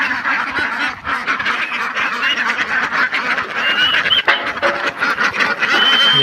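Farm ducks kept in an open yard quack and honk busily as a close, overlapping flock, a continuous chattering chorus of calls with no talking.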